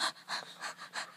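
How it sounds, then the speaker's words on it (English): A dog pants in quick, regular breaths, about four short bursts close to the listener, soft and rhythmic with no talking over them. "We can't control if he pants or not."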